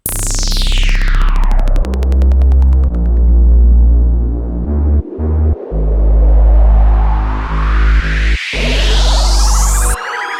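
A deep, throbbing synth bass line pulses in long sustained notes under a beat, with a rising sweep fading in and out at either end.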